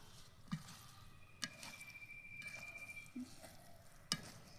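Eggplant frying in oil in a home kitchen, a faint steady sizzle with scattered clicks and stirring taps, fairly quiet throughout.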